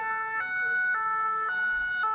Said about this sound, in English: There's a lot of sirens, a lot of people being transported around.